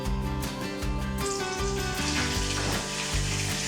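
Dill, turmeric, red chilies and curry leaves sizzle in a pan with a bright, steady crackle, while music with a repeating beat plays over it.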